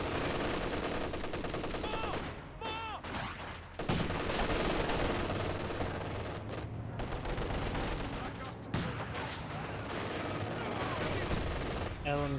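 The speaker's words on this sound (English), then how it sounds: "MG-34 firing away, suppresses down the Conscript squad." Sustained MG-34 machine gun fire in the Company of Heroes 2 real-time strategy game, dense loud battle noise with repeated bursts and other gunfire mixed in, running nearly continuously with a few brief dips.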